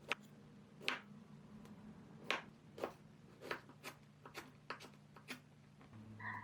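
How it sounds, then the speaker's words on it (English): Fresh ginger is chopped into rough chunks with a knife on a board, a dozen or so quiet, crisp taps in an uneven rhythm with soft room hum beneath. "Now I'm just chopping the ginger up into rough chunks."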